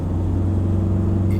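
A diesel engine in a 2021 Mitsubishi Triton Athlete drones at a steady low pitch from inside the cab, a loud constant hum with a slight rumble and no clear revving change.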